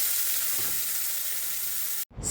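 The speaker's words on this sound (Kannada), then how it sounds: "ಈಗ ಕಟ್ ಮಾಡಿರೋ ಈರುಳ್ಳಿ ಹಾಕ್ತಾಯಿದ್ದೀನಿ" Chopped onions frying in a steel pan for a baby potato curry, a steady close hiss and sizzle that runs without a break and cuts off sharply near the end before briefly resuming.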